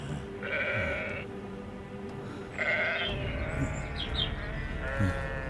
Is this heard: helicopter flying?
no